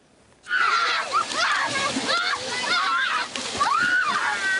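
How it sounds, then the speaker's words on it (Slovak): Children splash and bathe in a stream flowing through a Roma settlement near Prešov on a hot day, with continuous close sloshing and splashing water and kids' voices calling over it. "Nemusia ale chodiť na žiadne kúpalisko, kúpu sa priamo v potoku, ktorý preteká osadou."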